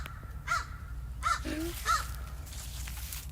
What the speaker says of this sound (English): That crow keeps on crowing.